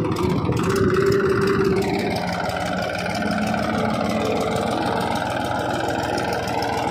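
A farm tractor engine running in a field, a steady mid-pitched drone with a slight rise in revs near the start, then settling into an even idle-like hum, close and continuous, no talk.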